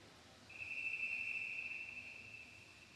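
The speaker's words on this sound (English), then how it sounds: "And with that whistle, we begin heat number 3." A starting whistle at a swim meet sounds as one steady, sustained blast lasting nearly two seconds, fairly faint and distant over quiet background noise.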